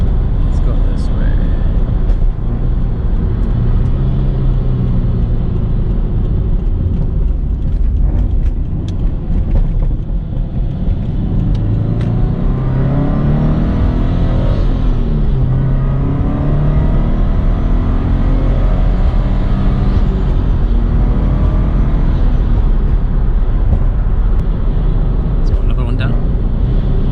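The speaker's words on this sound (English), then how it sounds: "Let's just go on a little more higher RPM drives and see how the supercharger sounds." Supercharged Subaru BRZ engine driven at higher RPM, a loud continuous rumble that rises and falls in pitch as it revs, with a faint supercharger whine, heard from inside the car under steady talk.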